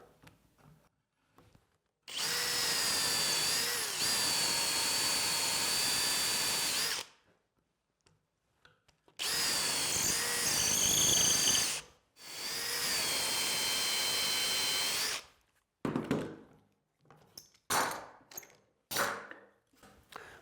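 A power drill bores into wood in three long bursts, each a steady high whine, with short pauses and a few light taps and clicks after.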